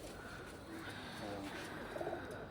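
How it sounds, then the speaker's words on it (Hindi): Pigeons coo softly a few times in low, throaty bursts against a steady, noisy background. "ये दूसरा कबूतर है"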